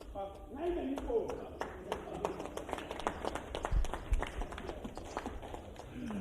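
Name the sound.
audience applause for a performing ensemble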